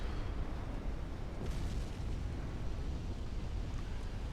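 Ship explosions in the naval warfare game Ultimate Admiral: Dreadnoughts, with turrets blown off enemy ships, form a continuous dense rumbling roar of overlapping booms that stays loud throughout.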